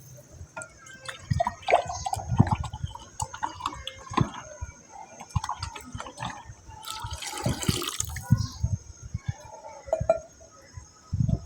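Water splashes and pours into a pot of rice for aloo pulao in uneven bursts with clinks and drips, close by, with a louder rushing stretch partway through.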